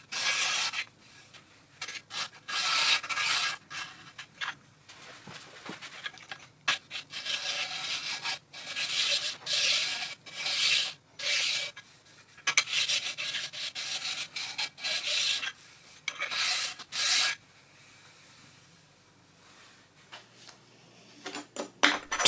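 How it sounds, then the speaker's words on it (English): A very narrow abrasive stone hones the under edges of parts from a CJ0618 7x12 lathe, making short, close rasping strokes in irregular bursts separated by brief pauses. "The under edges are more difficult still, so I'm using a very narrow abrasive stone and a lot of patience"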